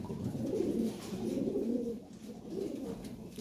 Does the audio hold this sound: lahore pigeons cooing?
yes